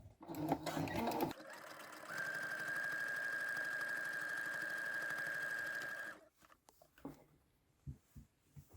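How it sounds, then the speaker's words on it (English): A domestic sewing machine stitching quilted fabric runs in a steady, rapid mechanical whir for several seconds, with a thin high whine, then stops; brief clicks and handling noises follow. "you can definitely get through 3 layers on a domestic sewing machine"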